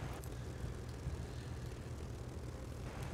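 Propeller engines of Yak fighter planes in the War Thunder video game, running as a steady low drone with faint higher hiss, continuous and moderately quiet throughout.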